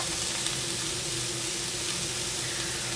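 Onion and garlic dropped into hot oil in a pan for a vegan rice noodle dish, a steady dense sizzle that stays loud and even throughout.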